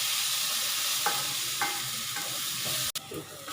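Ginger and garlic sauté in a hot pan for a soybean dry fry, giving a steady broad sizzle with a few faint stirring scrapes and one sharp knock near the end, no talking.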